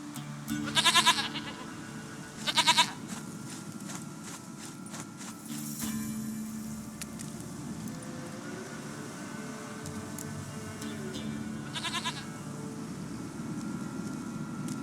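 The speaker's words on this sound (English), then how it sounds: "Goat of mine, dearest, sweetest goat." Goats bleat in The Witcher 3: Wild Hunt, with two loud, close bleats early on and another later, set over a steady background of game ambience and faint rustling.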